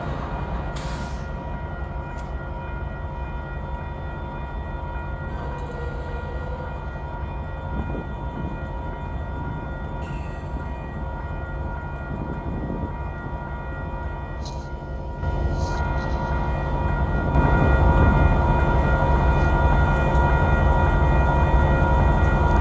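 A recorded train rumbles steadily, with a low rolling drone and tonal hum that swells louder partway through and stays strong to the end, no voices present.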